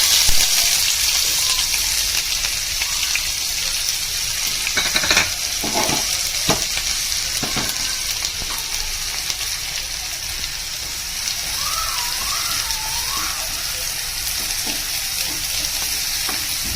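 Finely chopped onions fry in oil in a pan over a low flame, giving a steady, dense sizzle with a few stirring scrapes and no voices.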